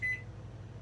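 A microwave oven melting Fritos gives a short electronic beep or two right at the start, then a low steady hum of the running oven with no talk.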